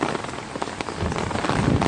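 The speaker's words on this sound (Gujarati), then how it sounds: "ધમધોકાર વરસાદ ચાલુ થઈ ગયો છે." Heavy rain pours down steadily in Rajkot with strong wind, a dense continuous hiss of drops drumming on surfaces that grows slightly louder toward the end, with no voices.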